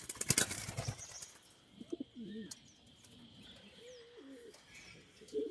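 Racing pigeons in a loft give a few low coos and an early burst of wing flapping, close but quiet, separated by pauses.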